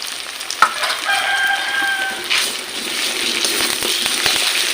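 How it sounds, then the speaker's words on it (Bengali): Spices cooked down with onion, ginger paste and garlic paste in a pan for a Bengali mutton curry, a steady close sizzle with a few scraping stirs and a brief high whistling tone early on. "আর একটু মশলা কষে নেব"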